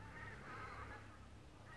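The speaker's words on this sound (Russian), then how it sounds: "О, гуси." Geese flying overhead honk faintly from a distance in a town setting in November, a soft, continuous chorus of calls over low background rumble.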